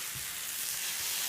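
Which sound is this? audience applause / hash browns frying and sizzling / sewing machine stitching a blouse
hash browns frying and sizzling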